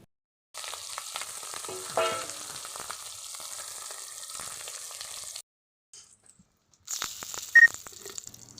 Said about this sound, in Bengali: কড়াইতে কিছুটা তেল নিয়ে সেটাকে গরম হওয়ার পরে মাছগুলোকে ভেজে নিতে হবে।